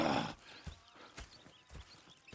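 Horses in the video game Red Dead Redemption 2, a few spaced, soft hoof clops and shuffles nearby after a brief burst of louder noise at the start.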